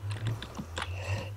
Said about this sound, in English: Smash my keyboard.